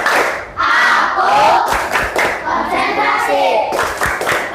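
A school class does the tepuk konsentrasi concentration clap, with bursts of rhythmic group clapping and thuds mixed with loud chanted voices of children, energetic and close.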